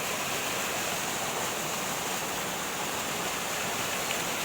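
Heavy rain and rushing water form a steady, dense wash of noise that stays loud and unbroken throughout, with no voices.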